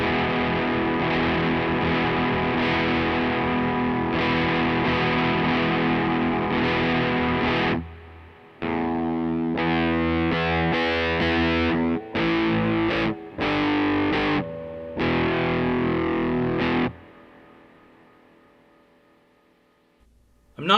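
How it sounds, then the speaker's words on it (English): Overdriven electric guitar chords with a shimmering chorus effect, played loud and sustained, a few choppy stabs near the end, then fading out. "The chorus is more overdrive with a sort of chorusy kind of reverb"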